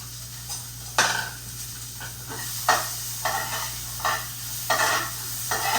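Onions with a little asafoetida sizzling in a pan for a sandwich filling, with steady frying hiss and several sharp stirring scrapes and clinks of a utensil against the pan, close and alone.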